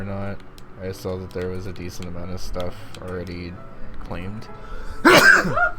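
A single sharp sneeze bursts out near the end, loud and close, following ongoing conversational speech from people talking during a design session.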